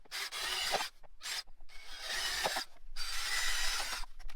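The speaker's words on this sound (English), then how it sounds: "So I just drill me some holes in it." A drill bores holes in a goat feeder in short repeated bursts of grinding, rasping noise with brief pauses between them, close and fairly quiet.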